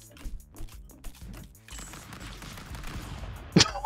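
Rapid clicky gunfire bursts from a stick-figure brawler game, quick mechanical pops in uneven runs at moderate volume, followed by softer clatter and one sharp burst near the end.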